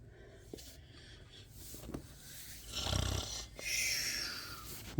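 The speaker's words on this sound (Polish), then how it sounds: "A ten chrapie, a ten zaczyna chrapać." Cartoon characters snoring in a children's animated series, a rough breathy snore swelling up loud mid-clip and then another long snore, with softer background sounds earlier.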